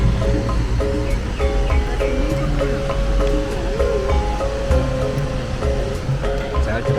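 Steady rushing water at Tegenungan Waterfall near Ubud, Bali, a broad continuous roar under a tonal melody or distant voices across the whole stretch.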